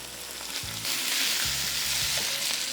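Pasta stir-frying with mushrooms on high heat for chicken pad thai, a loud bright sizzle swelling as food is tossed, with a few tonal clinks and stirs at close range.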